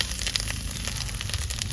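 Chopped onion and green chillies frying in a little oil in a village kitchen, a steady, close sizzle that crackles evenly throughout with no talking.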